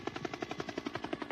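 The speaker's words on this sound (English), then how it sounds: "then you hear a real helicopter fly over the room" A helicopter flies overhead in a film scene, its rotor beating out a fast, steady, evenly spaced thudding chop that stays loud and close throughout.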